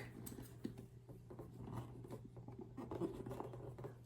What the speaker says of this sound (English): Always try to be extra careful with the scissors when you're doing this, obviously.